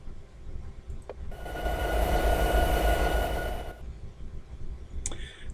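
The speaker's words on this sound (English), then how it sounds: "Welcome back to the cab of this diesel." A diesel locomotive in the Train Simulator 2017 game rumbles past. It swells abruptly into a loud, steady roar for a couple of seconds, then cuts off to a quiet hum with a few faint clicks.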